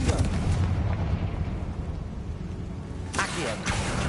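In the Hogwarts Legacy video game, a Confringo explosion spell lands as booming blasts over a low rumble, with a sharp, loud burst late on before the sound settles again.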